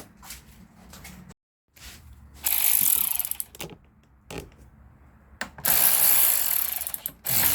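A hand ratchet turns 11 mm bolts on the starter of a 2002 Toyota Solara SLE, giving bursts of rapid clicking pawl strokes with short pauses and quieter handling noises between them, close up.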